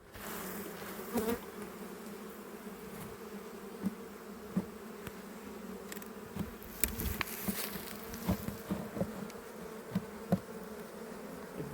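Honeybees buzz steadily at close range inside a hive during a spring inspection, a dense continuous hum with scattered faint knocks and clicks.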